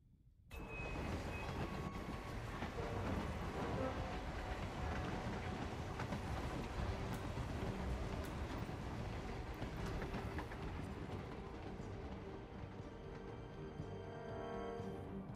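Steady rumbling train interior noise with rhythmic rail clatter, continuous and fairly loud throughout, no voices, in the video game Hitman 3.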